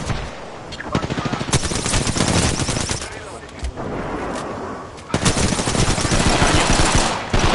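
Sustained automatic gunfire during an online shooter match on PS4, loud rapid bursts almost unbroken with short pauses, faint voices talking underneath.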